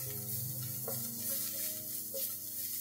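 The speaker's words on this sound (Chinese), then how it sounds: "呢三样嘢掟晒落去一齐炒，炒香佢就 OK 啦" Preserved vegetable, garlic and ginger sizzle in a hot wok during stir-frying, a faint steady hiss with soft scraping stirs, under a continuous background hum.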